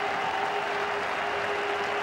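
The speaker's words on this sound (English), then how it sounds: "Applause there from the rest of the team." Teammates applaud at a one-day international cricket match in England, a steady, distant patter of clapping that holds evenly throughout, with a faint tonal hum underneath.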